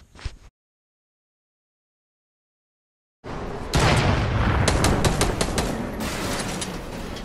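Minigun fire in Fortnite: a brief burst of shots, then silence, then a sustained loud barrage of rapid gunfire with sharp explosive cracks that carries on to the end.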